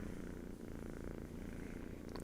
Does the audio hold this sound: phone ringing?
no